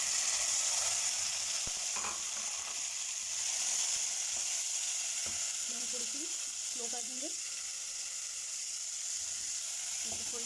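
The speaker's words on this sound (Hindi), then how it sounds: "इसको थोड़ी देर के लिए हम फ्राई होने देंगे, थोड़ा सा ये अपना कलर चेंज कर लें।" Onion and tomato fry steadily in a pan for an Indian potato and capsicum sabzi, a continuous soft sizzle with occasional stirring clinks and faint background voices.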